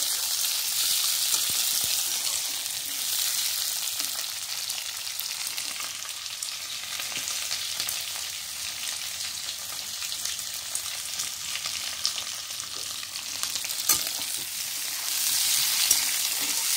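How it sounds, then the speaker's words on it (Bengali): Boiled potatoes fry in a pan of hot oil for an egg curry, giving a steady, even sizzling hiss that holds at a constant level throughout, with no voices. "এখন আমি আলুটা একটু ফ্রাই করে নেব।"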